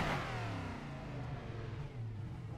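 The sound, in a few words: race car engine revving in a sim racing video game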